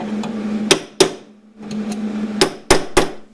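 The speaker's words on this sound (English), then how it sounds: "work around the area back and forth with a hammer and punch in between the welds" A hammer strikes a punch on freshly MIG-welded steel of a Chevy Astro/GMC Safari radiator core support, giving five sharp, loud metallic taps in two bunches with a steady hum between them.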